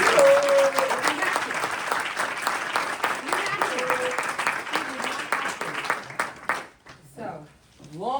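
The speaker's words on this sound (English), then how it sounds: "Let's give that a round of applause." Audience round of applause at a live community event, a dense wash of clapping that runs for several seconds and thins toward the end, with a voice and brief tonal sounds mixed in.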